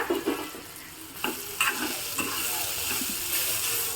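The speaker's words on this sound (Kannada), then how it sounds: "ಮಡಹಾಗಲಕಾಯಿನೂ ಸಹ ಚೆನ್ನಾಗಿ ಫ್ರೈ ಆಗಿದೆ" Spiny gourd fries in a pan, village-style, giving a steady crackling sizzle punctuated by a few louder scraping stirs close by, with no voices.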